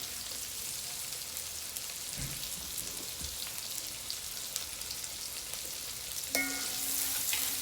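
Onion fries in a pot with a pinch of salt, a continuous soft sizzle with occasional stirring knocks, growing louder near the end as the pot heats up; no one speaks.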